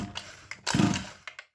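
A small rebuilt engine is pull-started with the choke on, giving a few quick cord-pull rasps and a short sputtering burst that dies away into silence.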